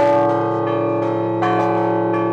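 Church bells ring out at the consecration of new bells at the 400-year-old Church of the Ascension on Ilyinskaya Street in Nizhny Novgorod, sustained overlapping tones with several fresh strikes layered over a continuous ringing hum.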